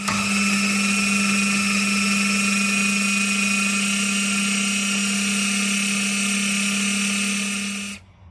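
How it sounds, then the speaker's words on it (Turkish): A food processor blends walnuts, curd cheese and red pepper with a loud, steady high-pitched whine and motor hum, running continuously before cutting off abruptly at the end. "Ve şimdi robotumu kapattım. Çalıştırıp blenderlayacağım."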